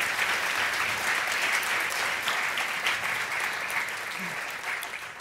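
An audience at an oratorical speaking event claps steadily, a thick, sustained wash of applause that fades slightly toward the end.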